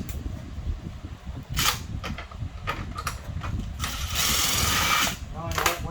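A socket wrench clicks in short bursts of ratcheting while parts are removed from a damaged 2020 Kia Sorento, with someone talking throughout and a brief hiss near the end.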